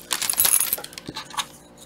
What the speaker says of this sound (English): Those jingle bells were loud.